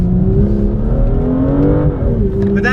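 A BMW M2 accelerates hard in second gear with an added exhaust system. The engine note is loud and close, rising steadily in pitch as it builds revs.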